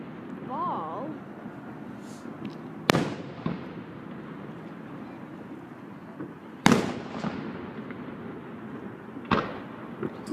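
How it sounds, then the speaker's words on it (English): Three Fourth of July fireworks explode with sharp, booming cracks a few seconds apart, each trailing off in a crackling decay, while voices murmur in between. "Two fireworks."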